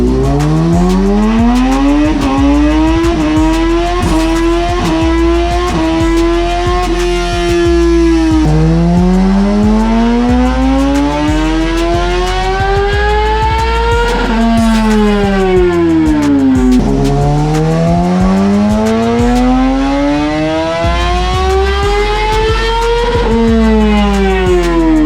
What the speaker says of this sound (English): we just got done running the bike with the DNA air filter